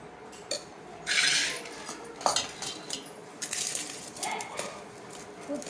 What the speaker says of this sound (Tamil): ஊற்றி கிண்டி பார்த்துக்கிட்டு நமக்கு போதும்னா நிப்பாட்டிக்கலாம்.